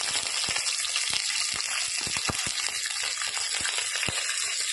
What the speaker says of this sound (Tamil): பச்சை மிளகாலாம் நல்லா எண்ணெயில் வதக்கினோன்னா கருவேப்பிலை கொஞ்சமாக போட்டுக்கோங்க